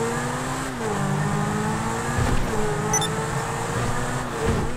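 Car driving in the GTA Online video game: a steady engine drone with shifting pitch over about five seconds, close and continuous, with a couple of brief revving swells and no voices.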